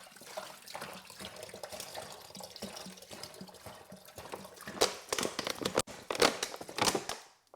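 Water is poured into a container while brewing banana wine at home, a steady splashing fill with a few louder surges near the end, close and unaccompanied by talk.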